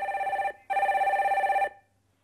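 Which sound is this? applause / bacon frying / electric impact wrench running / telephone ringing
telephone ringing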